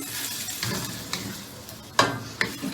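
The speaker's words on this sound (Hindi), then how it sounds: "इसको 1 से 2 मिनट के लिए भूनना है।" Masala frying and being stirred in a pan while cooking fish kata kat, a steady close sizzle broken by a few sharp scrapes and clinks of the spoon against the pan, with no talking.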